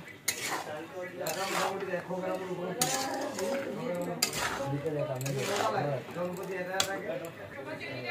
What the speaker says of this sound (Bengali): এখন ভালো করে আমি মিক্স করে নেব